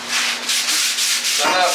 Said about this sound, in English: we're going to get us some sandpaper here. And this is a real fine sandpaper. This is 320.